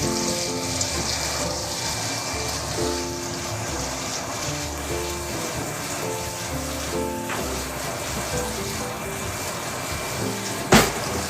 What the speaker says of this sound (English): You see my water boiling for my grits?